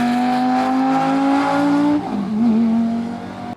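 A Lamborghini Gallardo with a Superleggera factory exhaust holds a loud, close, sustained engine note that climbs, then drops sharply before revving again and fading, with no talk.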